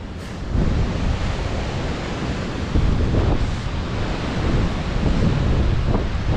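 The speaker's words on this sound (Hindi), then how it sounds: "हवा बहुत ज़्यादा तेज़ चल रही है, जिसकी वजह से झील का पानी समंदरी लहरों की तरह बिहेव कर रहा है" Strong wind gusts over Katora Lake in Pakistan whip the water into sea-like waves, a steady loud roar of surf and wind buffeting the microphone, with no voices.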